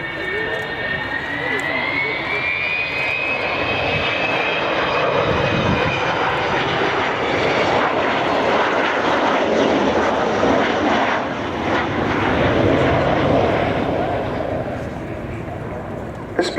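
Avro Vulcan B.2 bomber, the first of its mark delivered to RAF Bomber Command, roars overhead with a loud, sustained jet engine thunder and a rising whine, continuing steadily throughout while a person speaks.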